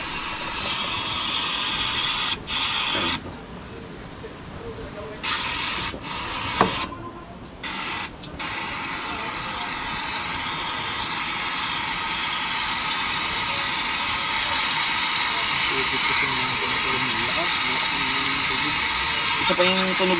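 Steady, full-bodied rush of running water flows continuously and fairly close, with a few brief dips early on and faint voices in the background.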